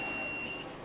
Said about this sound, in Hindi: ये आप बज़र की आवाज़ सुन सकते हैं।